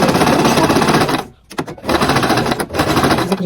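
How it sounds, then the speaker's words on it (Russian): Sewing machine stitching a jacket cuff seam about a centimetre from the edge: a fast, loud mechanical rattle that stops briefly, restarts in short bursts, then runs steadily again. "Начинаем шить."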